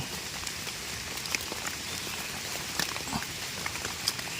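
Steady rain patters down outdoors during a mushroom hunt in Mae On, Chiang Mai, a continuous hiss with scattered sharper drops tapping close by.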